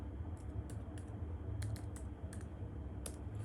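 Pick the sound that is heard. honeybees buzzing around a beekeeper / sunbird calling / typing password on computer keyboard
typing password on computer keyboard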